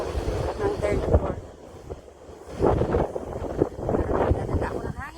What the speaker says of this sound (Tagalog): Nadala ako ng hangin ah.